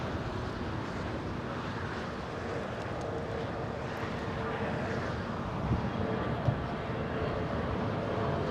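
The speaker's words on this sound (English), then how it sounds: "I think we can zoom into American Airlines now, flying in from London, arriving in just a few seconds" American Airlines airliner arriving from London at LAX, a steady distant jet roar with wind buffeting across the whole span, no clear approach peak.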